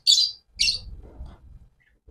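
Caged birds at a bird shop give two sharp, high chirps close by, followed by a soft low rustling and faint murmur.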